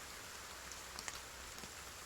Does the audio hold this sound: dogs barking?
no